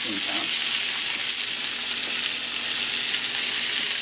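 Meat sizzles on a hot grill for a home-cooked Valentine's Day meal, a steady close hiss of frying fat with faint crackles throughout and no one speaking.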